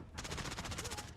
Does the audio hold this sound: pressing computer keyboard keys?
no